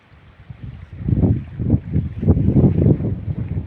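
Wind blowing over a choppy sea, a steady low rushing roar that swells in gusts and stays close and fairly loud, with no voices.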